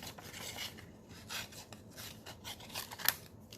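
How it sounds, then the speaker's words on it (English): Scissors snipping a penguin shape out of designer series paper, a series of soft close rasping cuts in uneven bursts, fairly quiet with no speech. "we're going to snip out this penguin here"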